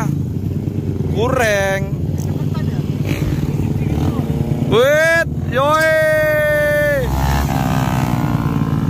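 Motorcycle engine during wheelie practice at a police training ground, revving up and down in several rising and falling bursts under steady engine drone, with people talking over it.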